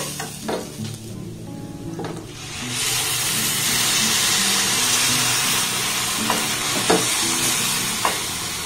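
Semolina and milk are stirred in a pan, a steady bubbling sizzle and hiss with scraping from the spoon, the sound swelling louder midway and running continuously with occasional clinks of the utensil against the pan.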